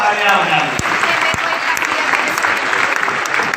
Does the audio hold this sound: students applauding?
yes